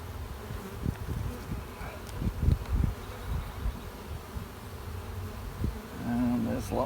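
Honey bees buzz densely around an opened brood chamber of a hive, a close, continuous swarm hum with individual bees droning past and a person speaking faintly.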